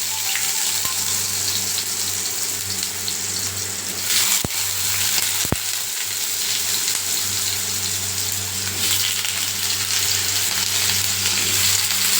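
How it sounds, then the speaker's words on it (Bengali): Potatoes fry in hot oil in a wok for a cauliflower and potato curry, giving a loud, continuous, close sizzle with a couple of sharp utensil clicks. "ফুলকপিটা সেদ্ধ হতে হতে আমি আলুটা ভেজে নেব।"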